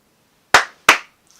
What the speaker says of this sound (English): Clap, clap.